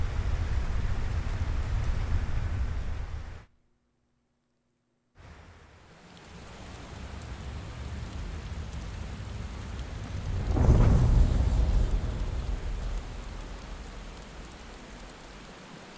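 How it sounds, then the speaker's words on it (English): Rain and thunder in the video game Final Fantasy XVI: a steady wash of heavy rainfall that cuts out briefly, returns, and swells with a rolling rumble of thunder before easing back to falling rain. "Now, why is it raining?"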